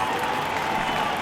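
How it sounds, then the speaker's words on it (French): Spectators applauding at the Red Bull Ocean Rescue lifeguard competition, a dense, continuous wash of crowd clapping at a steady level with a commentator's voice blended in. "Regardez le public qui applaudit."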